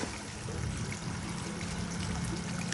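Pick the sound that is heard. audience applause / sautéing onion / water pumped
water pumped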